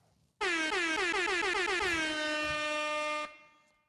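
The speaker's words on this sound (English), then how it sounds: "We gotta hit the air horn." A single loud air horn blast, a bright brassy honk held for about three seconds before cutting off.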